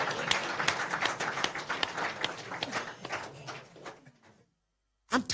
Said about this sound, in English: Make una clap for ourselves.